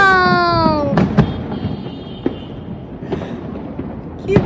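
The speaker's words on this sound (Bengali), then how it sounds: "চারিদিকে বাজি ফাটছে, এখানে বাজি ফাটছে" New Year fireworks bursting around an open city vantage point, a dense run of near and distant booms and crackles over a steady roar of crowd noise, with rising whistles at the start.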